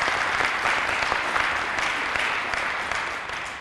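Press conference audience breaking into steady, dense applause throughout, fairly loud and close, easing slightly toward the end with no speech over it.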